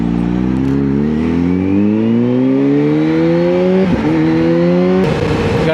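A Kawasaki ZH2 motorcycle with an Akrapovic exhaust being ridden, its engine loud and close, climbing steadily in pitch through the gears, with a brief dip at a shift before pulling again.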